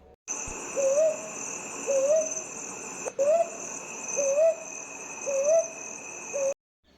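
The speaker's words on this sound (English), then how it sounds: "We also heard the call of bubuk." Owl calls from a bubuk in the Dandeli forest on a college campus, evenly spaced rising hoots repeating about once a second against a steady high insect or cricket drone, with no talking.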